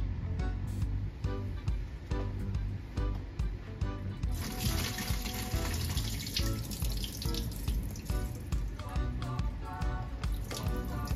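Pigeon peas rinsed under a running kitchen tap, with a steady close rush of water splashing into a sink and scattered drips and knocks throughout.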